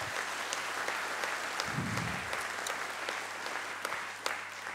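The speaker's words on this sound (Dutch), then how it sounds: "Ik zou nog een applaus willen voor de provincie Overijssel als gastheer van deze bijeenkomst." An audience at a beaver symposium hosted by the province of Overijssel breaks into steady applause, even continuous clapping at a moderate distance with a low hum underneath.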